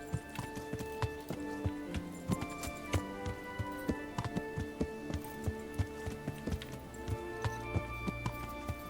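Horse hooves clip-clopping at a walk in Kingdom Come: Deliverance, a steady run of close, crisp knocks that keeps an even rhythm, with a few louder strikes standing out.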